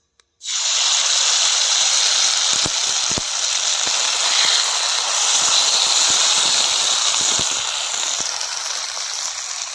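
Small spiced fish dropped into a little hot oil in a wok-style pan for a Medinipur-style sour fish dish, giving a loud, steady sizzling hiss that starts abruptly and holds for several seconds with faint crackles.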